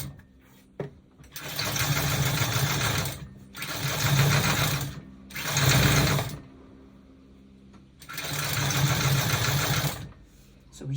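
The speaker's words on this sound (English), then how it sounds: "put your top on the sewing machine with your guide and let's sew this top" A sewing machine stitches the seam on a basic bodice top, whirring loudly in four long runs of steady motor buzz separated by short pauses.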